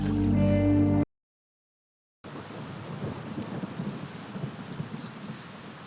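Steady, dense rain pours in a dubbed Malayalam movie scene, a close broadband hiss with light patter that follows a short burst of music and a second of silence.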